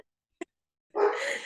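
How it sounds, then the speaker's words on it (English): A single short, loud dog bark rings out close by after a brief soft yip, then fades quickly. "there's my dog barking."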